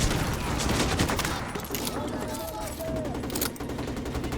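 Dense, continuous gunfire in the Call of Duty Modern Warfare 2 remake, rapid automatic bursts under faint voices and game sounds, dipping briefly near the end before resuming.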